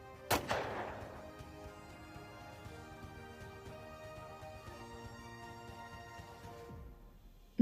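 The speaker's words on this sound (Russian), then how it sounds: "Черт, откуда он стреляет?" Gunfire in a voiced mini-film: one loud close shot followed quickly by a second, then a long ringing echo that fades over several seconds, ending with a sudden loud burst.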